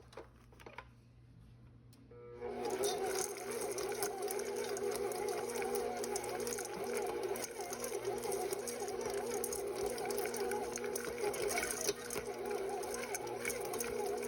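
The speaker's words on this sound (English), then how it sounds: "I'm going to mix these until they're evenly spread throughout the batter." Chocolate chunks are mixed into vegan chocolate chip cookie batter, heard as a steady, loud mechanical whirring that starts after a quiet couple of seconds and runs on without pause.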